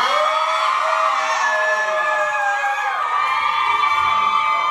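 A large crowd screams and shrieks loudly together in a sustained, high-pitched wave of excited voices.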